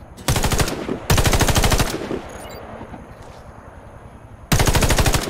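Automatic gunfire from a scoped weapon in the shooter game Warface, three loud, rapid bursts of rattling shots separated by a quieter stretch of ambient game noise.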